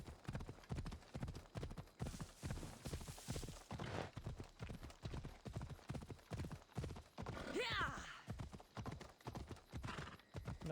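Horse hooves clip-clop at a steady galloping rhythm in Assassin's Creed Odyssey, close and continuous, with a brief whinny partway through and faint game ambience.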